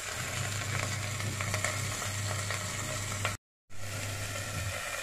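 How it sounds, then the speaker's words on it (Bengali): Potatoes and cauliflower fry lightly in a pan while being stirred, giving a steady, close sizzle with soft scraping that continues throughout and drops out briefly near the end. "আমার আলু কপিগুলো একটু ভাজা হয়ে গেছে হালকা করে"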